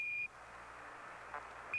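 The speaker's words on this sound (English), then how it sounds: "Roger, 1201 alarm." A short electronic tone sounds on the Apollo 11 lunar module radio loop, followed after a gap of crackling static by the start of another beep, signalling the 1201 program alarm.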